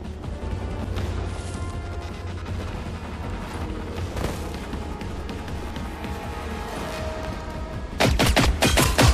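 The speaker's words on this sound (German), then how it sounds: "ich werde beschossen" Gunfire in the video game Generation Zero: dense, sustained bursts of shots and crashes throughout, swelling into a louder, sharper volley near the end, with no talk.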